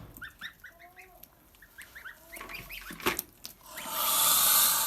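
Geese honking and chattering in short repeated calls at a livestock market, some overlapping, followed by a burst of louder rustling noise at the end.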